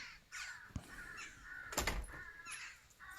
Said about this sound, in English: that's the dream army of crows right there